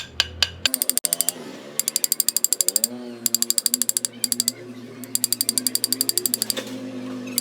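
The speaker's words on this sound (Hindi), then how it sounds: "सीलिंग फ़ैन की जो रॉड है दोस्तों इसमें हम रेती से निशान को लगा लेते हैं" A metal file rasps against a ceiling fan's steel rod in repeated quick strokes, coming in bursts of rapid scratchy clicks with short pauses between, close up and loud, with a low hum underneath.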